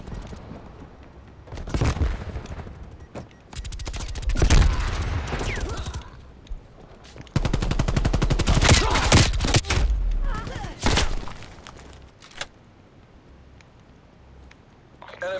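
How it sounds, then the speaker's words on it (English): A sentry turret in a video game fires long bursts of rapid automatic shots, loud and close, broken by pauses, thuds and single reports, with a voice speaking at times. "Sentry turret active."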